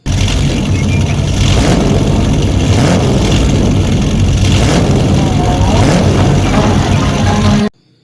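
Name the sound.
toy race car engine revving sound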